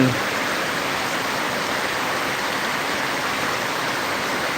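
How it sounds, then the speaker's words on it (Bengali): Heavy rain pours at night in a dense, steady hiss that stays even and loud throughout, with no voices over it. "প্রচুর বৃষ্টি হচ্ছে এখানে"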